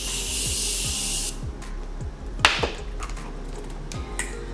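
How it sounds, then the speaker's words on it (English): Makeup setting spray hisses from a pump bottle in a steady, close burst lasting just over a second, followed by quiet rubbing and light tapping sounds. "Then going in with some more setting spray before I put on any highlight."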